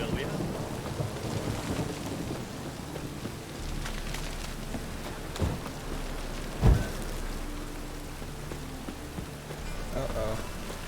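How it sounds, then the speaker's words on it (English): Steady rain falls in The Witcher 3, a continuous hiss with a low rumble beneath it and a brief thump near the middle, while a voice talks faintly over it. "Rain again."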